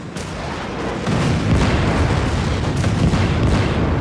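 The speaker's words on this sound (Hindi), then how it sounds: "6 पाकिस्तानी सेबर जेट्स ने विंग कमांडर चंगेजी के नेतृत्व में पेशावर एयरबेस से उड़ान भरी और श्रीनगर स्थित इंडियन एयरबेस पर ताबड़तोड़ हमला बोल दिया" Heavy, rumbling barrage of booms and artillery-like blasts evoking Pakistani Sabre jets bombing the Indian airbase at Srinagar in 1971, loud and dense, with thumping impacts rolling one into another.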